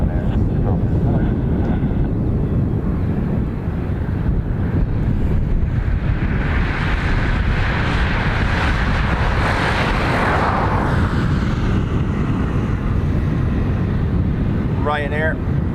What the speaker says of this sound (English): the wind is carrying the sound of the arrivals behind me quite well today